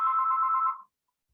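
A single steady electronic telephone ring tone sounds for just under a second, close and clear, then cuts off into silence.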